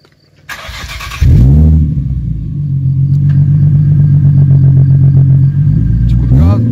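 A Nissan 350Z engine cranks and fires up, settling into a loud, steady idle close by, with a brief burst of voices just before the start.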